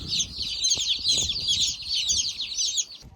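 Young chicks chirping continuously in a brooder under a brooder plate, a dense, steady chorus of high peeps close by with soft rustling and scratching beneath.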